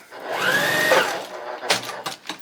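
A sewing machine runs briefly while tacking fabric inside the seam allowance of a paper-pieced quilt block, a close whirring burst followed by a few short clicks and rustles.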